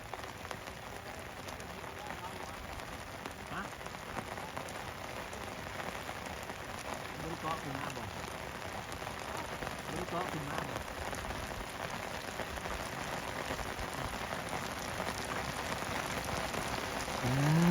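Heavy rain pouring steadily on a riverbank during fishing, a dense continuous hiss that stays fairly even and grows slightly louder toward the end, with faint voices in the background.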